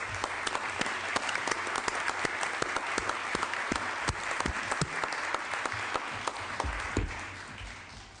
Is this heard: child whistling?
no